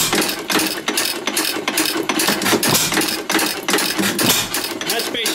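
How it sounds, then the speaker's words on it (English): A small engine's valve mechanism tripping the exhaust valve open and shut, a rapid run of repeated mechanical clicks and chattering pulses at close range, with a voice talking along over it. "Tripping the exhaust valve to close and open"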